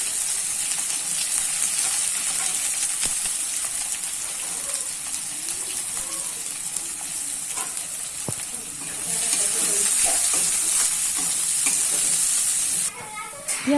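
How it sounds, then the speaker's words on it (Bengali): Chopped onions frying in oil with cardamom, cloves and cumin, a close, steady sizzle with occasional stirring scrapes and clicks. The sizzle swells louder toward the end before a brief clatter. "এবার আমি কুচিয়ে রাখা 3টে পেঁয়াজ দিয়ে দিলাম।"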